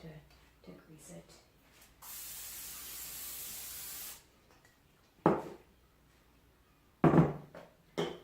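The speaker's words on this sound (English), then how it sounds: "I'm just going to go ahead and grease my pan." A square cake pan being greased with oil spray, one steady hiss lasting about two seconds, framed by a person talking before and after with some clattering handling.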